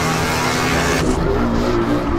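Loud, roaring Honda PCX motorcycle engines in GTA San Andreas rev hard and continuously at close range, with a harsh buzzing drone and a sudden shift partway through.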